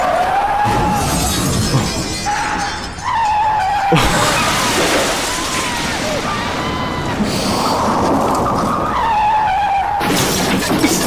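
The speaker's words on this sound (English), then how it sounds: "So many car skids." Car skids in the video game Five Nights at the Fazbear Diner, loud repeated screeching tire tones over crashing, shattering game sounds and a busy mix, with a brief dip near the middle.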